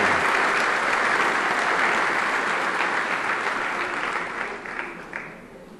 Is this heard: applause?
yes